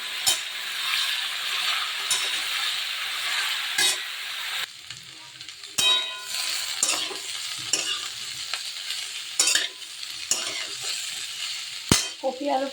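Cauliflower and potato frying with salt in a pan for a vegetarian poppy-seed cauliflower dish, a steady close sizzle broken by repeated scraping stirs of the spoon through the vegetables.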